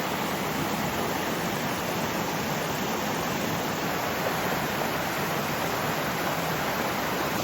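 An Appalachian creek after recent flooding rushes steadily, a dense continuous broadband wash of flowing water close by, unbroken and without speech for the full span.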